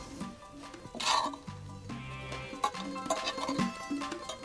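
Leeks being mixed into turkey stuffing in a bowl: close, busy clinks and scrapes of a utensil stirring, with soft thuds and rustling as the mixture is folded, no voices.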